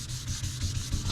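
Steady back-and-forth rubbing of 2000 grit sandpaper, sanding out paint on a 60-year-old Lincoln tombstone welder during restoration; close, continuous scratchy strokes with no talk.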